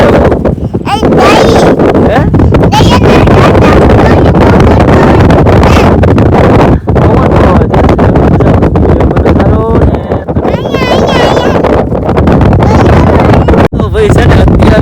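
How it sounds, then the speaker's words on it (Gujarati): Strong wind buffets the microphone at Diu beach, a steady roaring rush that runs loud and close the whole time, with people talking over it. "અત્યારે પવન ધીમો ધીમો વધી ગયો"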